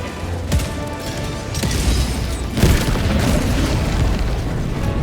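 A 500 kg bomb detonates on a turret in Helldivers 2, one heavy booming blast followed by a sustained rumbling roar, with a second sharp impact shortly after.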